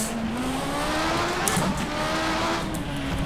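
Jordan 191 Formula 1 car racing around Spa in rFactor 2, its engine holding a steady high-pitched drone that rises slightly as it climbs through the revs, loud and close throughout, with no talking.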